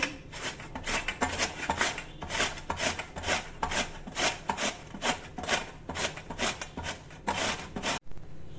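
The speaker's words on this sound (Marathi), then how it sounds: "सर्वप्रथम किसणीवर आपण कैरी किसून घेऊ" Raw Totapuri mango is grated by hand on a grater in quick, even rasping strokes, about two per second, close up. The scraping continues without pause for several seconds and then stops abruptly.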